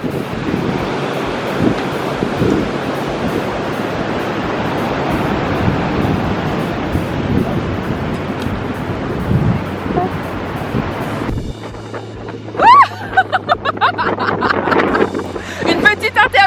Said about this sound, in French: La mer, elle est quand même bien agitée aujourd'hui.